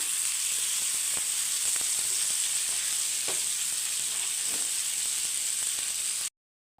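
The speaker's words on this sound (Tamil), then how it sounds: "இப்போ இன்னும் ஒரு மீன் இருக்குது வறுத்துட்டு மொத்தமாக உங்களுக்கு பிளேட்டில் வச்சு காட்டுறேன்" Fish fries in hot oil in a pan, a loud, steady crackling sizzle with occasional sharper pops and scrapes, running continuously without voices until it cuts off abruptly near the end.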